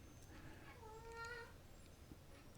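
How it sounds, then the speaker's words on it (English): A domestic cat gives a single clear meow, rising and then falling, close by, with a quiet indoor room hum behind it and no talking. "That's my cat."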